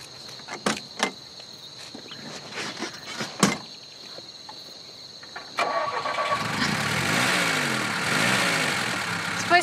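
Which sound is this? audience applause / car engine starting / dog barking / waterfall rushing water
car engine starting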